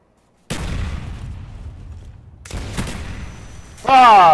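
Explosions and gunfire in the video game Black Ops, a sudden loud blast after a moment of silence, then a second burst of shots and booms, ending with a voice speaking over it.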